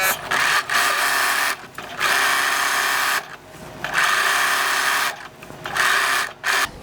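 A sewing machine stitching basting lines on dress fabric, running in bursts of steady whirring, about four runs separated by brief pauses, close and loud with no talk.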